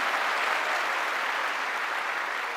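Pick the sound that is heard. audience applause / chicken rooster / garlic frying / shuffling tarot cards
audience applause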